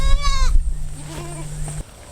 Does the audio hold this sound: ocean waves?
no